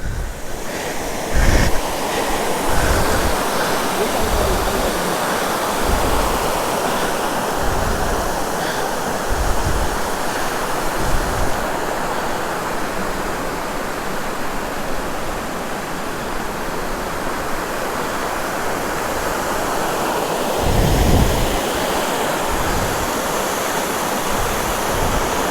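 A waterfall on a forest trail at Kuthlur rushes as a steady broad roar throughout, with occasional soft thumps and no voices.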